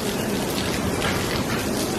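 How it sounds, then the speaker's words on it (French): Steady rain falling on the way to breakfast in Thailand, a dense, even hiss of drops on surfaces that stays constant and fairly close throughout, with no talk. "Mais genre il pleut bien quoi."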